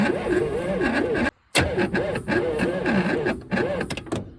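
Cranking a 1961 Dodge Polara big block that won't start, the starter churning in a rhythmic, wavering whir, cutting out briefly, then grinding again in uneven bursts, close and loud.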